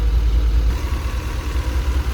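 Car engine idling after new spark plugs and plug wires were fitted, a loud steady low rumble with even, smooth running and no talk.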